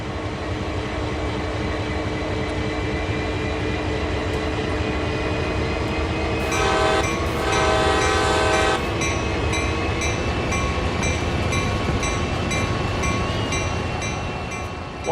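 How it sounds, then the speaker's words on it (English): A CSX heavy-haul freight locomotive in Train Sim World creeps onto a turntable with a constant loud diesel drone and rail rumble, while a horn-like tonal blast sounds for a couple of seconds midway. "As you drive onto the turntable, take it very slowly so you don't overshoot."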